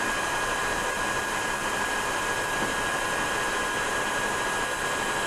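A heat gun runs on its high setting, blowing hot air onto the metal parts of a 1920s Monroe model K mechanical calculator; a steady, loud broadband whoosh with a faint whine holds unbroken throughout, with no talking.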